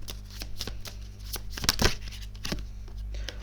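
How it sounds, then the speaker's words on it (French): An answer card drawn from a deck of cards, giving a few soft papery slides and taps close by, with a steady low hum underneath. "Je vais juste prendre une carte réponse."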